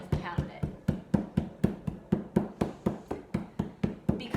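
A clay coil pounded flat by hand for a planter base, heard as a steady series of about twenty dull, thudding slaps in quick, even rhythm, close and moderately loud.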